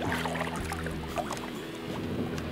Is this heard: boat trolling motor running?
yes